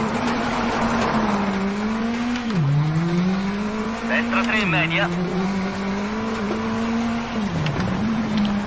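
A rally car engine in the WRC 9 video game, on a wet stage with an underpowered car, drones steadily, its pitch dipping and climbing through gear changes and corners, while a co-driver's voice reads pace notes over it.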